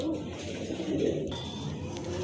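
A pair of racing pigeons coos softly and fairly close, low rolling calls repeating over a steady background hum.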